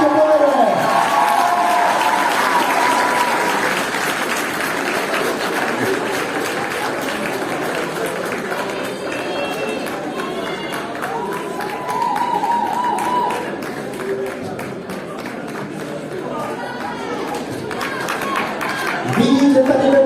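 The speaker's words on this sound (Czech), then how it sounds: "Pojďme je prosím ještě jednou povzbudit potleskem." A hall full of guests at a Czech school graduation ball claps for the third-year students in sustained, dense applause that runs almost the whole time, with voices mixed into the crowd.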